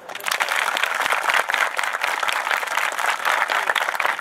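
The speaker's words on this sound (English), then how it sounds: "Let's have a little more applause for that." A group of kids at a camp gathering claps in lively applause, with sharp individual claps standing out in a busy, moderately close patter that holds steady throughout.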